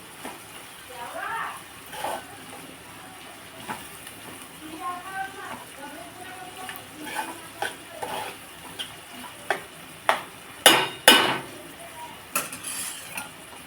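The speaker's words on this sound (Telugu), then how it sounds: "ఉల్లిపాయలు బాగా మగ్గించాలండి" Onions sautéing in a pan for an egg and capsicum curry, a low sizzle with spoon scrapes and clinks that grow louder near the end, heard beneath intermittent speech.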